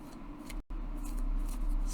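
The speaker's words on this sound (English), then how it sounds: "But shuffling is smooth." Oracle cards riffle-shuffled by hand, a steady papery ruffle lasting about two seconds with one brief pause partway, close and alone.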